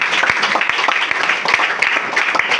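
A church congregation applauds together, a dense steady wash of many hands clapping with sharper individual claps standing out, loud and continuous throughout.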